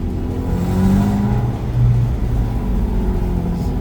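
A BMW E36 coupe engine runs after sitting unused for a long time, a loud, steady drone that rises and falls in pitch as it revs a couple of times.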